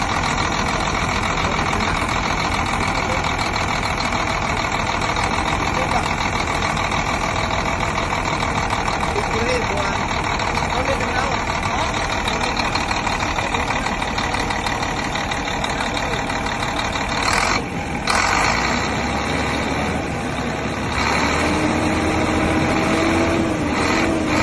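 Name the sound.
diesel engine running and revving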